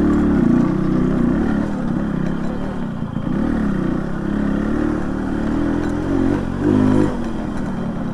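A motorcycle struggles up a steep rural track, its engine held at a steady, labouring drone with slight surges and dips, close by and loud, with no talking over it.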